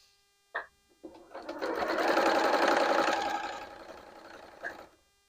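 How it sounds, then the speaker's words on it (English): A sewing machine stitches quilt fabrics in one continuous run of rapid mechanical chattering, close and clear, with a few clicks just before and after the stitching. "I would cut this apart and then sew the other side, lining up my fabrics"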